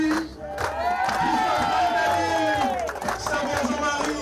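A crowd at a football club celebration with its supporters cheers and claps for the team staff, a loud sustained roar with a voice over a speaker system talking through it.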